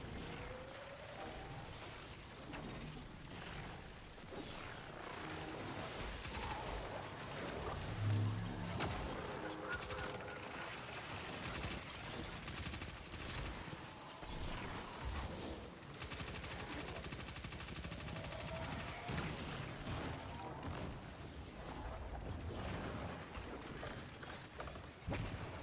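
Gunfire from shooting enemies in a video game rattles on throughout, dense repeated bursts of shots and mechanical clatter at a fairly low, even level with no voices.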